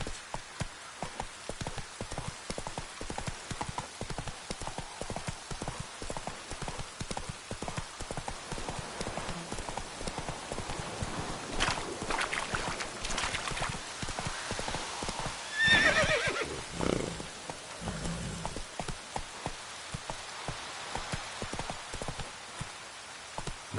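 Hooves of Roach, a horse in The Witcher 3: Wild Hunt, clip-clop in a fast, steady gallop through the whole stretch, with a loud neigh partway through and light rain pattering underneath.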